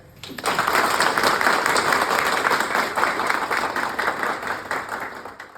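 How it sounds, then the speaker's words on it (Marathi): Loud, sustained applause from a room full of people at a fundraising event for special-needs children in Nashik, steady clapping that swells quickly and slowly thins out toward the end. "पहिले तर मॅमसाठी प्लीज जोरदार टाळ्या."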